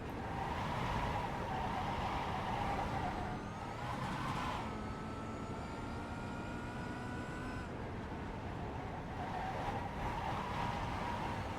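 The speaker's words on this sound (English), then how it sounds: "You can hear I've got too much throttle, and as we go over the crest, the tyres are spinning up" Race car engine held at high throttle during a multi-class race at Lime Rock Park, tyres spinning up over a crest; a loud, sustained roar with rising and falling pitch, another car's engine passing partway through.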